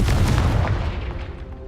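Confringo blasting spell explosion from the Hogwarts Legacy video game, a loud booming burst with a heavy low rumble that decays over under two seconds, no talk.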